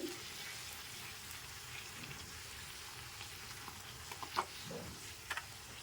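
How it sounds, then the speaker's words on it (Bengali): Luchi puffed flatbreads deep-frying one by one in hot oil give a soft, steady sizzle with a few faint pops and bubbling bursts, quiet and with no talking. "তো দেখো আমি এক এক করে লুচিগুলোও ভেজে নিচ্ছি।"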